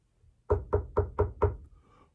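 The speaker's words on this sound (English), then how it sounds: "there was a loud knock on the door." Five firm, evenly spaced knocks land on a wooden door, loud and close, after a faint tap, then quiet.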